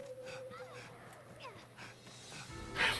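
Wolf-like pups in the fantasy video game Dragon's Dogma let out a scatter of yips, whimpers and short barks at moderate distance. Someone talks over them.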